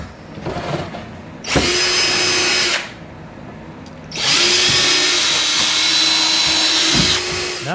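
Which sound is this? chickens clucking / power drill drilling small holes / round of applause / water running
power drill drilling small holes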